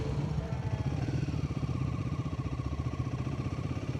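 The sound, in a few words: Honda motorcycle passing by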